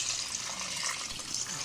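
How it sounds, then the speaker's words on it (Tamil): Water pours into a pressure cooker over young goat mutton pieces for a mutton fat soup, a brief, soft, steady splashing gush. "அரை கிலோ மட்டனுக்கு 3 கப் தண்ணி சேர்த்துக்கலாம்."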